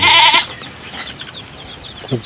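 Farm goats, newly bred does, bleat loudly in one close call at the start, followed by fainter, scattered bleats and animal noise in the background.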